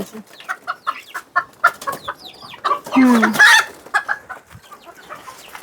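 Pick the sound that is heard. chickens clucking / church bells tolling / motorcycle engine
chickens clucking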